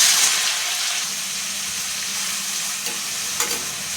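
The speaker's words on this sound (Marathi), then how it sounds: "आता थोडंसं ऑनियन चॉप केलेलं टाकूया." Chopped onion dropped into hot oil for a tadka sizzles and crackles loudly and steadily up close, with small bursts of spattering over a continuous frying hiss.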